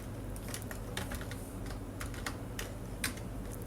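Fingers tap on a computer keyboard in quick irregular clicks, close but quiet over a low steady hum, with no talking.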